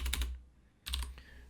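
Two quick bursts of computer keyboard typing, a short cluster of clicks, a pause, then a second cluster, close and fairly quiet with no voices.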